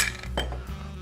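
Ice clinks against glass as lemonade is poured over a large ice cube, a few close, bright chinks and knocks with a brief ringing tail, no talking.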